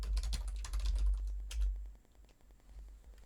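Rapid clicks of a computer keyboard being typed on while writing Python code, a quick burst of keystrokes followed by lighter taps, close and fairly quiet, with no speech.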